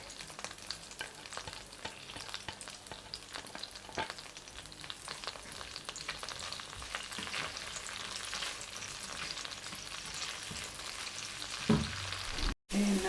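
Garlic fries in a pan with a steady, soft sizzle and occasional stirring scrapes, close and fairly quiet, ending with a louder clatter.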